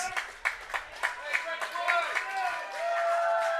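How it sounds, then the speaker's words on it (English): Crowd applause at a baseball game between the Guelph Royals and Brantford Red Sox, scattered claps swelling into a steady round of applause, with an announcer talking over it. "Getting a big round of applause from the Royals Kingdom."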